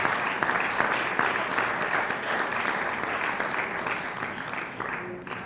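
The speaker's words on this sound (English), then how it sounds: "these people deserve a round of applause" Steady, dense audience applause at a Gurudev Jayanti spiritual gathering, moderately loud and continuous before tapering slightly at the end.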